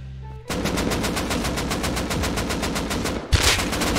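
Rapid automatic gunfire in the survival game Rust, a dense sustained burst of evenly spaced shots after a brief quiet start, loud and close, with a short pause and a sharper shot near the end.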